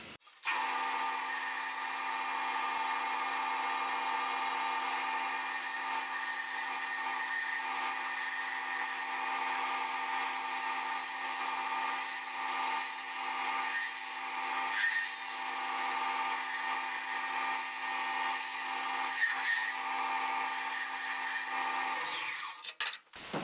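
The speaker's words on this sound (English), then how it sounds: "hollow out the rest of the middle and create the handle" A wood lathe spins steadily as a tool takes hollowing cuts into the middle of a wooden spinning top. The whirring scrape is fairly quiet and continuous and stops abruptly at the end.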